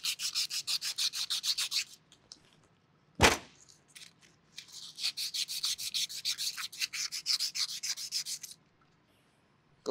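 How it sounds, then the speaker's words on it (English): Sandpaper rubbing paint off a vacuum pump drive shaft, close rhythmic back-and-forth scraping strokes in two runs, separated by a brief pause and a single sharp knock. "So we'll go ahead and use some sandpaper."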